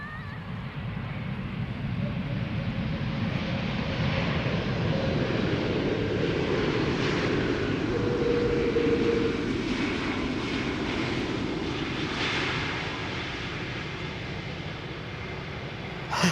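A Turkish Airlines Airbus A321 landing at Schiphol after arriving from Istanbul gives a steady, loud broadband jet roar that holds for about twelve seconds and then eases slightly, with no talk over it.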